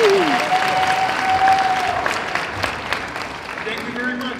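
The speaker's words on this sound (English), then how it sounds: "So please give a big round of applause for Dan." Audience applause fills the hall at an anime convention opening ceremony, loud and steady broadband clapping that holds throughout, with a whistle or feedback tone sliding across the first half.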